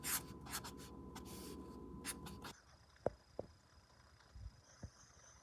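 A pen scratches across paper while an equation is written out for a quadratics unit test review, with a soft rubbing stroke at first and then several faint, brief taps and scrapes, close and quiet, with no talking.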